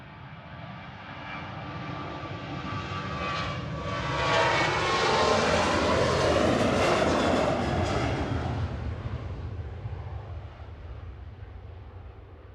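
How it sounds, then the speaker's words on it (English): A delayed airliner bound for Larnaca takes off from Manchester Airport, its engine roar swelling to a loud peak mid-way and then fading into the distance, with no voices. "Here they go, those poor people on the delayed flight to Larnaca."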